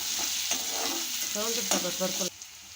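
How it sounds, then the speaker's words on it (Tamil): Ginger and spices sizzle in hot oil as they temper in a pan, with a steady frying hiss and scraping stirs over about three seconds before the sizzle drops away at the end. "எல்லாமே நல்லா தாளித்து ரெடியாகட்டும்"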